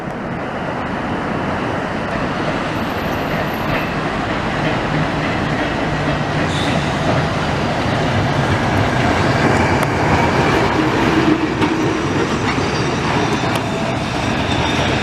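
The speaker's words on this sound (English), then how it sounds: "We are going to get an ace view of this heritage tram as it comes back" A heritage tram rolls past close by on street rails near Gynn Square, a steady rumbling clatter with rhythmic wheel clicks and hiss that builds slightly as it goes by, without any talk.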